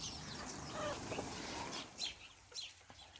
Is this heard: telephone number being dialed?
no